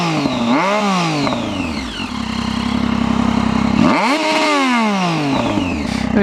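A Triumph Street Triple motorcycle fitted with twin underseat SP Engineering carbon-fibre-effect exhausts is revved twice near at hand, each sharp rise and fall separated by a rough, rumbling idle.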